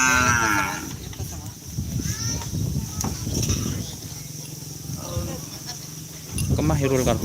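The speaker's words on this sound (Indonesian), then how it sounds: "Sapi besar guys." A large bull from a kerapan sapi racing team lows loudly and repeatedly outdoors, with steady insect or cricket chirping in the background and brief bits of human voice.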